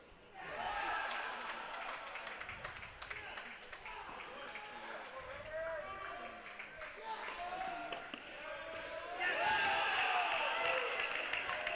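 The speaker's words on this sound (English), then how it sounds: "As we hear the crowd and the players getting rowdy behind their players" Crowd and players at a men's college tennis match between MTSU and SMU cheer and shout continuously, a dense rowdy roar of voices that swells louder near the end.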